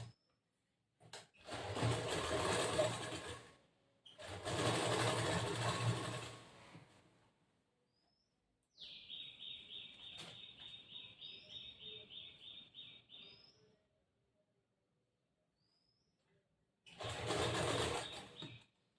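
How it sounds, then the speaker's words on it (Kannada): A domestic sewing machine stitches blouse fabric at a half-inch margin in one steady, rapid run of about five seconds, set between stretches of talk, with quiet gaps before and after. "ಅದೇ ಅರ್ಧ ಇಂಚಿಗೆ ಸ್ಟಿಚ್ ಮಾಡಬೇಕು."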